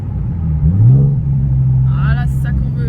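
Nissan 370Z Nismo engine revving after a downshift to second gear, a deep rising growl that swells and holds as a steady rumble, with people talking over it near the end.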